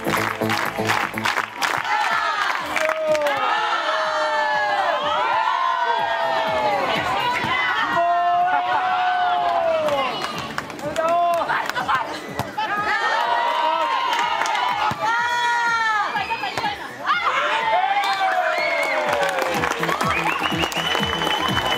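Both stands of spectators at a women's volleyball final cheer, shout and chant in a loud, continuous roar, with applause and rising group calls sustained throughout while an announcer's amplified voice carries over the crowd.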